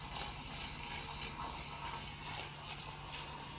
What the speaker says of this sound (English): whisk it for at least a minute